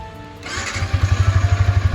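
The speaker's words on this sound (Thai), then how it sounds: "สตาร์ทติดทีเดียวรู้เรื่องเลยนะฮะ" A 2022 Yamaha YZF-R15 motorcycle with stock exhaust starts up on the first try, the starter giving way to a close, loud, rhythmic pulsing idle.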